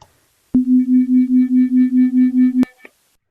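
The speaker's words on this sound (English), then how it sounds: "There they were separated by 5 hertz and began to hear a beating." A pair of pure sine tones set 5 hertz apart plays for about two seconds, producing a loud, steady pulsing beat with roughly ten even swells in loudness, heard alone without speech.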